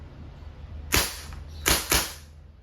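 A Crosman A4-P CO2-powered airgun fires steel balls in semi-automatic mode, three sharp cracking shots, one alone and then two close together, against a quiet background.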